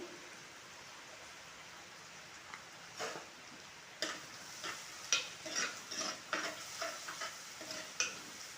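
Green chillies drop into hot oil in a pan for Kerala tuna fish curry, giving a soft sizzle with a scatter of sharp crackles and pops that grow busier toward the end, fairly quiet and with no talking.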